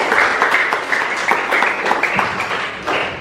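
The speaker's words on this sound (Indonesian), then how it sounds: "Oke, tepuk tangan." A classroom of students claps together during a teaching-practice religion lesson, a steady, dense patter of many hands that holds at a fairly even level for a few seconds with no talk over it.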